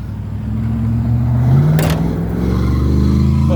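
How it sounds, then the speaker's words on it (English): A car revs its engine as it drives past a parked truck, a loud continuous low rumble that swells and climbs in pitch midway before settling into a steady drone, with no talking. "every time he drives by, he always revs up because I'm sitting in my truck"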